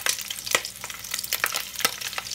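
Tulingan (skipjack tuna) frying in a pan, a steady close sizzle broken by sharp pops and crackles of spitting oil, with no one speaking.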